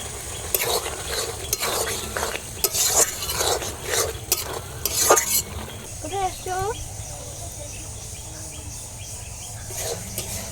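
Fried small fish being stirred into sizzling masala in a pan, with repeated scraping spoon strokes over a steady fry, a voice talking nearby and a bird chirping briefly.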